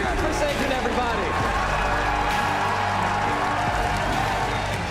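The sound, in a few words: crowd applauding and cheering at Pokémon championship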